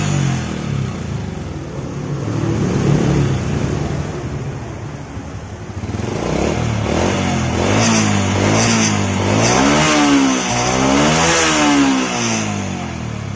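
A Honda Supra motorcycle engine, recently hard to start, idles and warms up, then revs in repeated rising and falling bursts that grow louder toward the end, close by with no talk.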